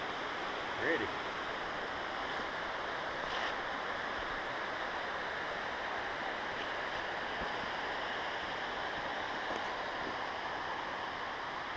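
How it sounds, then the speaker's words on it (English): Steady broadband rush of a waterfall beside a road near a new housing development, continuous and fairly loud throughout, with faint talk in the background. "Waterfalls."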